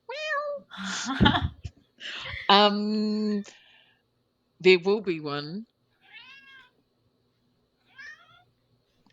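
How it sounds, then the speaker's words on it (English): A pet cat meows several times at close range, the calls alternating and overlapping with people talking in a casual conversation. "oh, look, your cat's replying for me."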